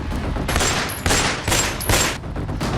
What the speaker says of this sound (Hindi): बिहार में फिर खूनी खेल, बेखौफ बदमाश, अंधाधुंध फायरिंग।